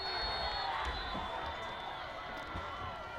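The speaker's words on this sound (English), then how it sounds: "Crowd on their feet." A football crowd at a championship game roars after a quarterback sack, a steady wash of cheering and shouting heard from within the stands, sustained and fairly loud throughout.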